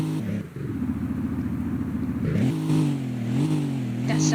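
Bugatti Chiron at a Southwest Florida car show and street-race meet, its engine droning and revving in a rough, wavering tone for several seconds, close and fairly loud, with a brief dip before the pitch climbs again.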